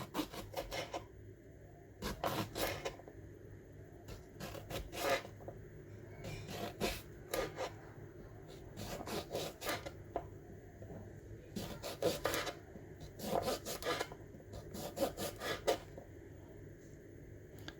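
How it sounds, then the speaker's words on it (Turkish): Knife slicing unpeeled cucumbers on a board into medium-thick rounds, producing repeated short crisp cutting strokes in irregular bursts, close but quiet throughout. "Kabuklarını soymadan orta kalınlıkta dilimleyelim."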